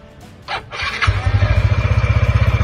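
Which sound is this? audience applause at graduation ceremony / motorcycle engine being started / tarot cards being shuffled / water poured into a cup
motorcycle engine being started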